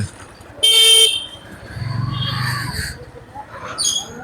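Car horns honk in a traffic jam at a railway gate on a Bangladeshi road: one loud, sharp blast up close, then a lower droning horn and a few shorter toots amid steady traffic rumble.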